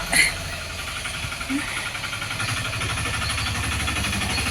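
An auto rickshaw engine idles with a steady, low, pulsing rumble that continues throughout, joined by a short sharper sound near the start.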